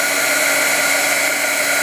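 A heat gun blows steadily while shrinking waterproof heat-shrink on a pixel light string, a loud, constant airy whir close by with no talking.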